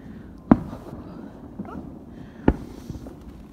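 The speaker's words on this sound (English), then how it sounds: "I just broke my whole tripod running out to the fireworks." Fireworks go off outside on a bitterly cold night, heard as two sharp, distant bangs about two seconds apart over faint outdoor background noise.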